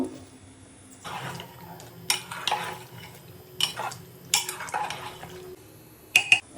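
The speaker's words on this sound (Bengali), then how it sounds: "প্রেশার কুকারের ঢাকনাটা খুলে নেব। এর ভিতরে দিব হচ্ছে আলু।" Potatoes going into half-cooked beef in a pressure cooker for beef biryani: clattering pot and lid knocks, scraping and stirring in irregular bursts, close and fairly loud, ending with sharp metallic clinks.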